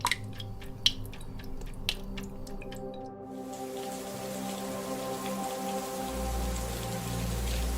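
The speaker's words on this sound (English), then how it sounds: "When the first rains of the season descend, the parched earth seems to be granted a miracle of life." Rain falls on dry, parched savanna ground, first as distinct drips and patters, then settling into a steady rushing downpour with a low rumble beneath.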